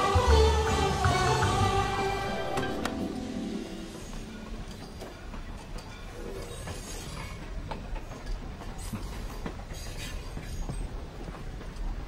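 A train running on the rails, a steady rumble with faint clatter of wheels continuing for several seconds after a louder start, at moderate distance, without speech.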